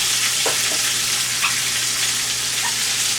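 Chicken leg quarters frying in a pan, a loud continuous sizzle with a few sharp pops of fat scattered through, close up and no voices.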